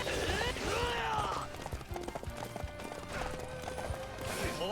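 Horse hooves clip-clop at a gallop in the video game Samurai Warriors 5, a steady drumming under game music, battle noise and a brief whinny, with a voice speaking over part of it.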